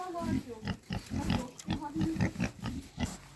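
Rhythmic boar grunts in a farmyard, close and fairly loud, repeating every fraction of a second with people talking alongside.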